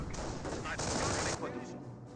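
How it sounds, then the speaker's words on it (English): Rapid gunfire from German grenadiers in the World War II strategy game Company of Heroes, a faint continuous crackle of rifle and machine-gun shots lasting about two seconds. "Rifleman squad receiving a bit of fire there from these grenadiers."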